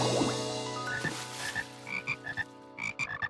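Cartoon frogs croak in a bathtub in a quick series of short, close croaks after a brief splashy start.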